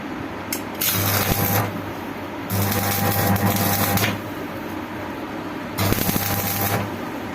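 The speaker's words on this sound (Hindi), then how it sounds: "जब भी टांका लगाओ पहले थोड़ा सा हथौड़ी से ठोक लो" A hammer tapping the rusted motor of an air cooler, with three separate bursts of quick, rapid taps, close and fairly loud and separated by quieter gaps.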